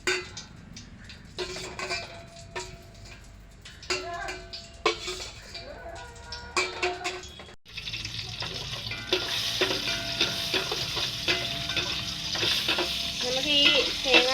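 Oil sizzles steadily in a pan while ingredients for pumpkin payasam fry, with scraping and clinks of a spoon against the pan, growing louder and denser in the second half.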